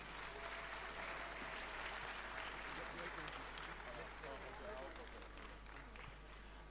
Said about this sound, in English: A round of applause for them as they come.